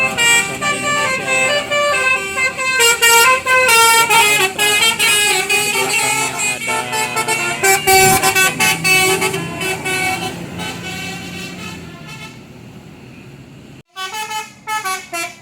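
Musical telolet horns on Indonesian tour buses at the Tembung bend in Kerta play loud, repeated melodic tooting phrases one after another, with a brief cut near the end before another burst.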